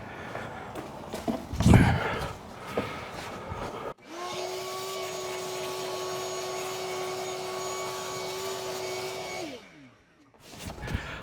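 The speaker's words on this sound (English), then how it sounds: "then I take my shop vac and vacuum up all this dust" A shop vac vacuums up dust beside a pool wall, starting with a sharp click and then running with a steady, loud whine for several seconds before winding down. Brief handling noises come before and after.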